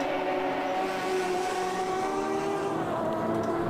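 Porsche GTE race car engine in a sim racing game, a steady high-pitched drone holding on as the car heads down into a banked interior turn, continuous and fairly loud with no talk.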